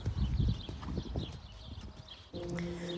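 A trained horse galloping in a riding arena, hooves clip-clopping in a quick, close rhythm, followed by a brief clear tonal sound near the end.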